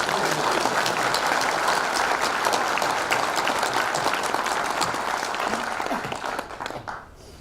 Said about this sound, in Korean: 우리 존경하는 민경국 교수님을 박수로 맞아주시기 바랍니다